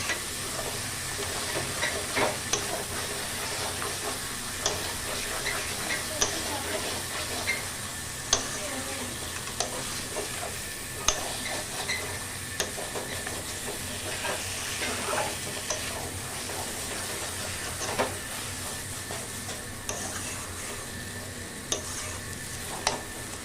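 About 500 g of mutton is sautéed in a pan for a Bengali-style red curry, with a constant soft sizzle and hiss and occasional sharp clinks of a spoon stirring against the pan, close and moderately quiet.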